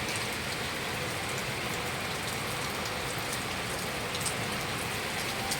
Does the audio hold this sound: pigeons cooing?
no